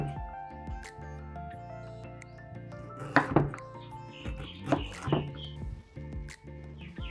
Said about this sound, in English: For galangal, just cut it into medium chunks.